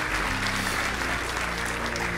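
Congregation clapping during a church service, a brief burst of many hands applauding together over a low sustained musical drone.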